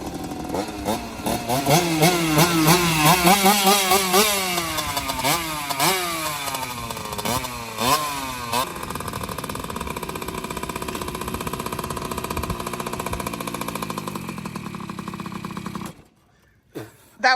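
A petrol-engined Sur-Ron motorcycle revs hard nearby, its rising and falling pitch sweeping through several throttle bursts before settling into a rough, steady idle that cuts out near the end.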